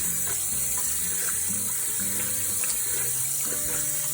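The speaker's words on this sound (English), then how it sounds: "Alright, just keep rinsing until the water's pretty clear." A faucet runs steadily into a sink while freshly ice-dyed tie-dye fabric is rinsed under it. The close, continuous splash of running water holds even throughout, with no talking.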